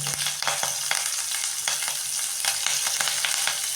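Onion, green chili and curry leaves frying in hot oil for a dosa filling, a steady loud sizzle broken by repeated sharp scrapes of a spoon stirring the pan, with no voices.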